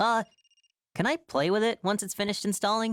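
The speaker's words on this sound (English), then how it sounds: "That's the phone. Maybe Dad's calling." Telephone ringing in the video game Another Code: Recollection, a short electronic ring at the start, then a character speaks over the silence that follows.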